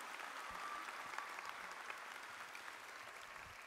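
Steady applause from a commencement audience at a spring graduation, a dense wash of clapping with a few sharper claps standing out, heard from some distance.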